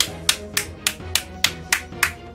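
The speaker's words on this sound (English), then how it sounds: "Big clap for that one." Seven sharp hand claps in a steady, even rhythm, close and crisp, each a distinct snap with a quick decay, played alone without any talking.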